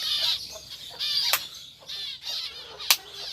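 Lovebirds squawk and chatter in a breeding aviary, with a rapid series of shrill, overlapping calls and two sharp, louder squawks standing out near and fairly loud.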